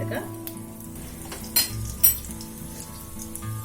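Garlic frying in hot oil for chicken 65, a steady soft sizzle with a couple of brief louder clinks of utensil against the pan, close and with no voices.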